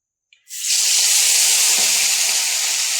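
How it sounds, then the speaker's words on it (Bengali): Catla fish head dropped into hot white oil, a sudden loud steady sizzle and hiss that starts abruptly after a brief quiet and keeps spitting close up without pause. "আগে হচ্ছে ওই কাতল মাছের মাথাটা ভেজে নিচ্ছি সাদা তেলে"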